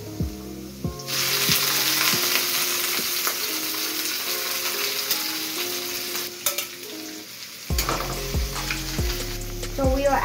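Shrimp sauté in hot oil with garlic in a pan, a close, steady sizzle that swells loudly as the shrimp go in, with occasional utensil clinks and almost no talk.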